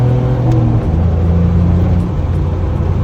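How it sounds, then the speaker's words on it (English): Loud, close engine and intake roar from inside a 350Z under hard acceleration, with the pitch stepping as gears change and a constant deep drone. "Damn, you hear that intake? Yeah, that intake sounds crazy."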